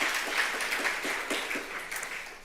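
Congregation applauding together during a Sunday church service, a steady wash of many hands clapping at moderate distance, continuous without talk.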